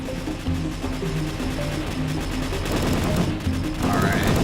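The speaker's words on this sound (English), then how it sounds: "this is why I love the missile frigates, because they shoot out a bunch of missiles" Dense, rapid barrage of missile launches and explosive impacts from missile frigates in the space fleet battle game Saga of the Void: Admirals, loud and continuous with layered booms throughout.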